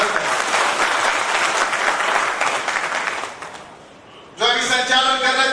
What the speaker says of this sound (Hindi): मैं चाहता हूं पूरा सदन उनका तालियों से स्वागत करें।